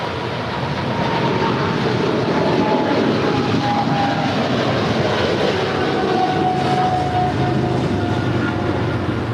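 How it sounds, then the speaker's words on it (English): American 136, a Boeing 777-300ER, departing from Los Angeles for London Heathrow: a continuous loud jet engine roar with a slowly shifting whine, heard steadily from the ground without talk. "This is American 136 Heavy departing to London Heathrow. It's a 777-300ER."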